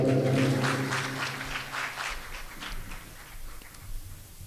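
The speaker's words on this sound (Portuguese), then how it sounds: "Um salve de palmas para essa banda maravilhosa." A church congregation applauds the worship band, with sustained music tones fading out at the start as scattered, rhythmic clapping carries on at moderate volume.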